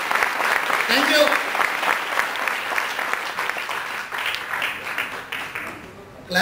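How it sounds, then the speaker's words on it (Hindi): An audience at a training seminar gives sustained, dense applause, with many hands clapping steadily and loudly before tapering off near the end. "तालियां,"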